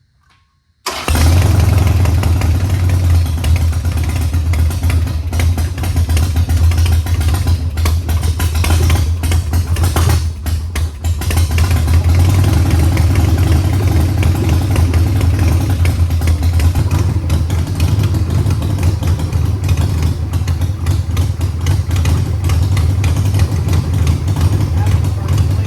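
A 1987 Harley Davidson Sportster custom chopper engine starts and settles into a loud, steady, close-up idle with a deep rumble and mechanical clatter, running continuously with brief voices around the middle.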